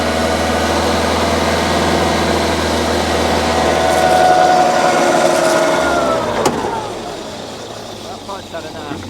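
The engine driving a Chieftain tank TN12 gearbox on a test rig revs up into a loud, steady drone, then winds down and fades, with a sharp knock as it drops off.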